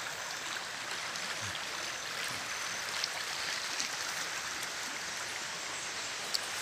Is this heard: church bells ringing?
no